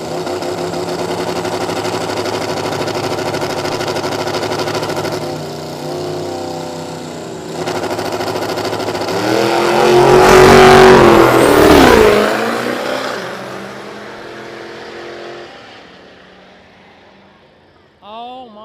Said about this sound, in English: You're gonna watch the black smoke roll out of the right lane, guys. That big old diesel.